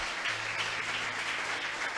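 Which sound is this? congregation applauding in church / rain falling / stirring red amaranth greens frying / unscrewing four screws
congregation applauding in church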